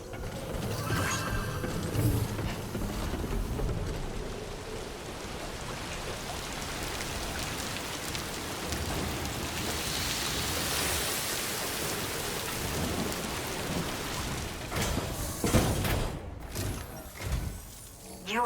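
Steady timefall rain pours down in the video game Death Stranding 2, a dense, hissing wash of drops with rumbling swells and occasional heavier gusts, loud and continuous throughout.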